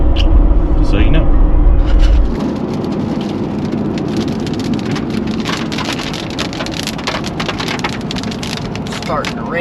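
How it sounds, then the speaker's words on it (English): Rain patters steadily on a car during a drive through a stretch of road bound for Colorado, a dense, even hiss of drops on the body and glass after a louder rumble in the first two seconds, with people talking faintly. "Starting to rain again."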